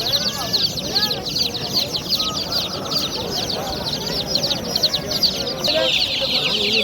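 Young chicks, about a month old, peep steadily in a crowd at a poultry bazaar in Namangan, a dense high chatter filling the whole stretch under talk and market bustle.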